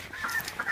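Chickens in a backyard coop cluck in a brief, close burst of clucking and squawking, with no talk over it.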